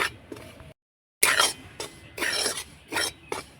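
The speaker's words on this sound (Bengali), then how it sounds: "ভেজে নেব দু তিন মিনিট ধরে তবে কালার করব না একদম একটু কাঁচা গন্ধ চলে যাওয়া অবধি নাড়াচাড়া করব চালের গুঁড়োটাকে" Rice flour being stirred while dry-frying in a pan over medium heat, heard as repeated scraping and clinking strokes of a utensil against the pan in short bursts, fairly close, with a brief silent gap early on.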